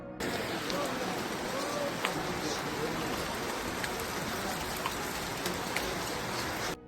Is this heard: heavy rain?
yes